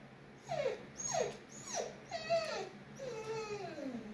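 A dog whimpers and whines in a series of high, falling cries, about five close, distinct whines over a few seconds, heard alone with no talking.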